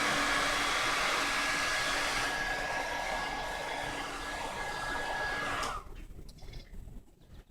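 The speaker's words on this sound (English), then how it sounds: "Bring the dryer up. You dry it." A hair dryer blows steadily on a synthetic or human hair weave track, a loud, even whoosh with a thin whine that runs for about six seconds before cutting off into quiet room noise.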